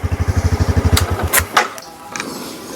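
A Yamaha PG1 motorcycle engine with a check-engine fault idles close by in a rapid, even low thump for about a second, then fades out, leaving a few faint clicks and mechanical taps.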